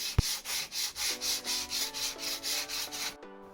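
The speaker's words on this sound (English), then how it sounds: "sand a bumper" A car bumper being sanded by hand, with steady rhythmic rubbing strokes, about a dozen even back-and-forth passes close up, and a sharp knock at the start.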